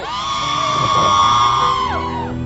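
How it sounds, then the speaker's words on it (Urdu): A studio audience at a television talk show lets out a loud, sustained collective whoop and shout, holding steady for about two seconds before trailing off. "اور رضا کے لیے ذرا شور مچائیے تاکہ رضا کو پتہ چل سکے"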